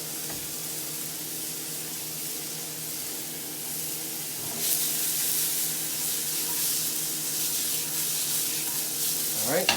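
Garlic and shallots sizzling in a pan for a game bird and foie gras pâté, a steady broadband frying hiss that grows slightly louder midway, with no talking.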